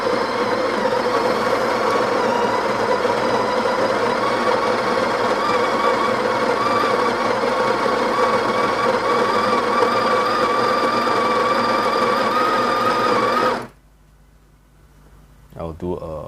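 Electric coffee grinder milling beans, comparing a built-in Breville grinder with a Niche Zero and Eureka Mignon Specialita: a steady, loud motor whine runs continuously for about 13 seconds, then cuts off abruptly into near silence.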